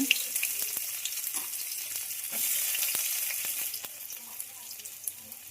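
Onions sizzle steadily in a hot pan while Maggi noodles are being made, a close frying hiss broken by occasional utensil taps and stirring clicks, with no talking.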